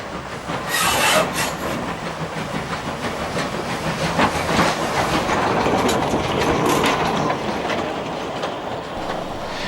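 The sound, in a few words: Peckett 0-4-0 steam locomotive moving away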